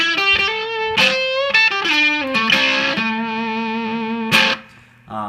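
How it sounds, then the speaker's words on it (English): Electric guitar played through a Catalinbread RAH overdrive pedal set past noon, the overdrive pushing the tone into gritty distortion as strummed chords and picked notes ring out loud and sustained, cutting off near the end, with no talking. "As you get past noon, the overdrive really starts to kick in."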